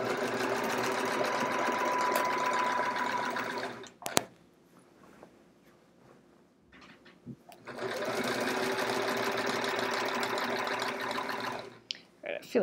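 A sewing machine quilting with a walking foot runs in a steady, fast mechanical whir, stopping for a few seconds of near silence with faint handling clicks before starting again at close range.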